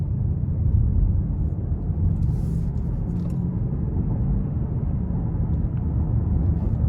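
A 5.0-litre V8 in a 2021 Genesis G90 AWD pulls in sport mode as a steady, deep engine rumble, heard from inside the cabin at even loudness with no talk.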